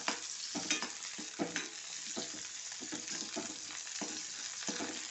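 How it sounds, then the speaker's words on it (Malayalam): Ingredients for okra buttermilk curry sizzle in a pan at close range, with frequent stirring scrapes and clinks punctuating the steady hiss; no talking is heard. "അത് നന്നായിട്ടൊന്ന് വറുത്തെടുക്കുക"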